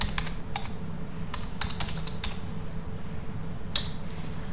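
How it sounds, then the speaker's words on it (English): Typing on a computer keyboard, with a few scattered key clicks and short bursts of taps over a low steady background hum, close by, no speech. "let's type it here, dendrogram."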